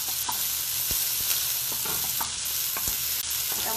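Onions sauté and brown in a pan with a steady, close hiss of frying, punctuated by several crisp taps and scrapes of a utensil stirring them.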